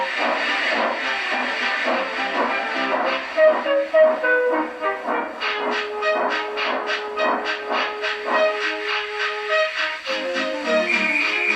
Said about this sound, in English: Gordon, with much noise and blowing of steam, got ready to back onto the train.